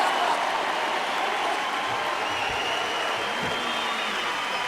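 Studio audience applauding and cheering for Hawthorn Football Club skipper Jason Dunstall on a 1997 Grand Final footy television show, a steady dense wash of clapping that stays loud and even from start to finish.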